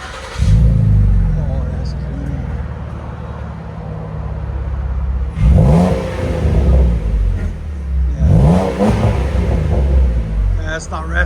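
A 2016 Lincoln MKZ with a 3.7L V6, X pipe and Magnaflow exhaust idles with a deep rumble, then gives two strong revs that swell and fall back. Voices talk over the engine.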